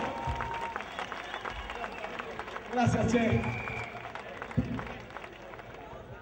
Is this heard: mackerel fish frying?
no